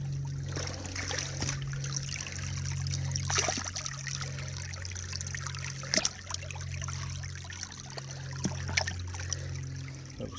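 Water trickles steadily over rocks in Anderson Creek at Warrandyte at reduced flow, a soft continuous babble with a low steady hum beneath and occasional faint knocks.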